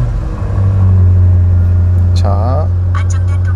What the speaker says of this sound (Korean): 제가 시동을 걸어서 한번 보여드릴게요.